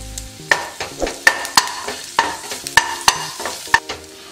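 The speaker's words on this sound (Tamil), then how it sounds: "இந்த பூண்டோடையே எண்ணெயில இந்த புளியும் சேர்த்து வறுத்துக்கலாம்" Crushed garlic and tamarind frying in oil, with a soft sizzle broken by a quick, rhythmic series of sharp spatula clinks and scrapes against the pan, up close.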